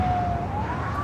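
An LAPD black-and-white police car near LAX sounds a siren, one rising wail heard close and steady over low traffic rumble.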